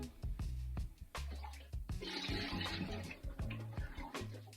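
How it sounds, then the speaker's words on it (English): Water is poured off a bowl used for washing a boar bristle brush, then clean water runs back in, with splashing and trickling that stays close and moderately loud throughout. "we're just going to pour off this water, and now we're going to fold this up with some clean water"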